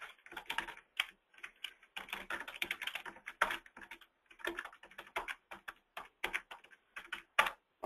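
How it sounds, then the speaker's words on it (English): Fingers type on a computer keyboard in quick irregular bursts of sharp clicking keystrokes with brief pauses between runs, close and clear, no talking. "I'm typing it in."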